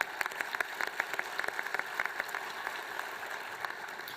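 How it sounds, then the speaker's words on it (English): Audience at a judge's investiture ceremony gives a round of applause, a steady spread of individual claps at moderate distance carrying on for several seconds without talk. "Let's take a moment to give her another round of applause"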